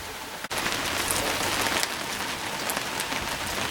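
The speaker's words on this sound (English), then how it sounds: "It's raining." Rain falls steadily on a surface at a mountain camp on Mt Rogers, a dense continuous patter with scattered louder drops, close and alone.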